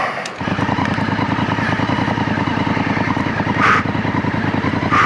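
A Honda Africa Twin motorcycle, unloaded of luggage, rides off-road on soft humid ground, its engine close and loud with a steady throbbing drone throughout.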